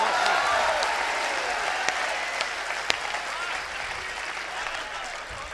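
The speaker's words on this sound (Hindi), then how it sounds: "इतनी तालियां तो मैंने पिछले 10 साल में नहीं देखी साहब" A large crowd at a patriotic Hindi poetry gathering breaks into dense, sustained applause, a continuous wash of clapping that stays loud and steady throughout with a few sharper claps standing out.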